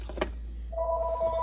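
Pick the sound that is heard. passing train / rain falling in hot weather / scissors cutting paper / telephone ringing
telephone ringing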